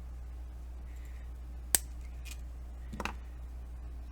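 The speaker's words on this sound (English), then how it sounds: "I'm just going to cut the chain" Wire nippers cutting a jewelry chain for a champagne keychain: one sharp, close metallic snip, then a softer clicking pair of clicks a moment later, against a quiet steady hum.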